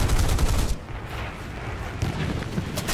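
An F7F Tigercat fighter in War Thunder fires its cannons and machine guns in heavy, booming bursts. The fire stops briefly in the middle, then rattles back in as further volleys.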